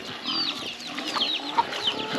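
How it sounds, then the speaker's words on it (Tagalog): Farm chickens cluck and chirp softly while feeding alongside pigs, a scatter of short, overlapping calls at close to moderate distance over a low background murmur. "Pati mga manok nakikain din doon sa pagkain nila."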